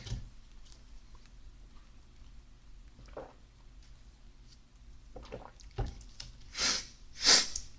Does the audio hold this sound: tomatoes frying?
no